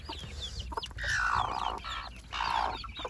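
Araucana chickens clucking nearby in a backyard flock, with a couple of drawn-out, louder squawking calls over softer chatter and a faint background hum.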